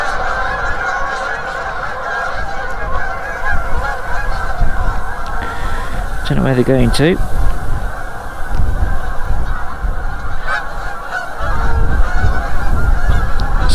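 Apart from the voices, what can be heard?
geese honking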